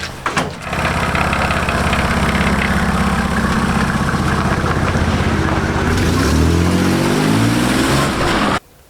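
A 1991 Mercedes-Benz W124 300D diesel engine runs steadily and loud, close by, with a rough clattering drone that holds for most of the stretch before cutting off abruptly near the end; no one speaks.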